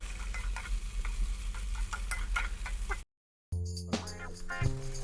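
Podi idli shallow-frying in oil in a pan, a steady close sizzle with stirring and spatula scrapes, briefly cut to silence before resuming with clinks and bubbling.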